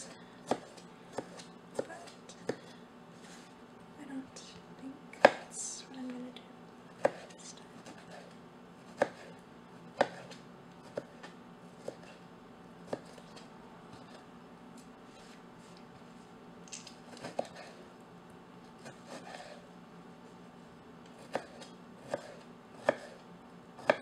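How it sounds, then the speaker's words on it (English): Vegetables for salsa chopped small on a cutting board with a knife, a steady run of sharp, close taps in irregular bursts over a quiet room background, with no talking. "I try to chop it pretty small."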